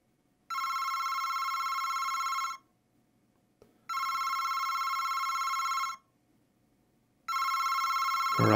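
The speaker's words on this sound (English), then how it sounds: "And now, our phone is ringing." A telephone rings in three long, loud bursts separated by short silent gaps, with a single thud between the first two rings and a rumble at the very end; nobody speaks.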